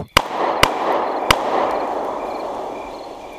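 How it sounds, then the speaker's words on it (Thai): Three sharp gunshot bangs ring out in a cave, each loud crack trailing into a long reverberant echo, with the last one leaving a lingering rumble. "เสียงปืนดังก้องถ้ำมาอีก"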